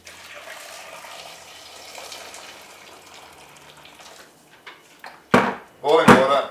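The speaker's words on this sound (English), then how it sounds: "Boiling water on the stove." Tap water runs into a cooking pot to boil potatoes on a kitchen stove, arriving as two loud splashing bursts near the end after a long, quiet stretch of faint room noise.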